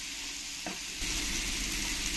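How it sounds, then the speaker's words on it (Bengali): A spoon scrapes and stirs spice powders into ridge gourd cooking in a hot pan, a brief sizzle with a soft scrape partway through, close and alone. "ভালো করে নাড়িয়ে চাড়িয়ে মিশিয়ে নিতে হবে।"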